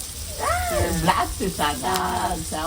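Onions sauté in a pan with a steady background sizzle, mostly under a person's talking voice.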